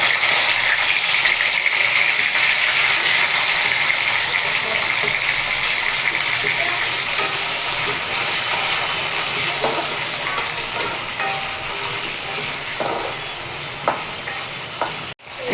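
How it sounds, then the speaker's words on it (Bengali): Washed eggplants sizzle and spit in hot oil in a pan, a loud steady frying hiss close by that slowly settles, with a few stirring clicks near the end. "এই তেলের মধ্যে আমি ধুয়ে রাখা বেগুনগুলো ছেড়ে দেবো।"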